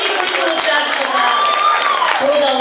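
An audience claps at a school Christmas celebration, giving steady, scattered applause from a crowd while a voice carries on over it.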